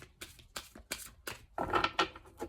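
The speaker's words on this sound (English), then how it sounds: "one last shuffle here" Cards riffle and snap in quick bursts, a run of sharp slaps followed by a longer whirring shuffle, close and clear.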